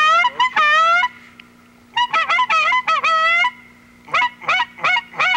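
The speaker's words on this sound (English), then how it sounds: "Wait, here's some geese." Wild geese honking in loud, repeated bursts, coming in clusters with short gaps between them over a duck-hunting marsh, with a low steady hum running underneath.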